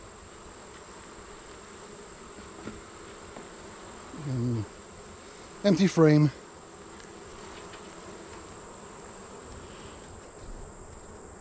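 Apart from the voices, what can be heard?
honey bees buzzing during a hive inspection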